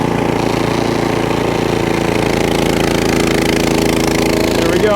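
A Cub Cadet 3X snowblower with a clog reducer runs through heavy snow, its engine giving a loud, steady, close-up drone with a rough chugging texture that holds without a break.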